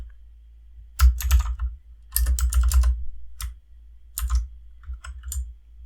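Computer keyboard typed in bursts while writing JavaScript code for a calculator, with quick clustered keystrokes separated by short pauses, close and fairly loud, no talking.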